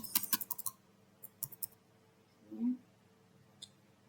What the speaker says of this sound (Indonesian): masukkan angka pilihan menu di keyboard dari keyboard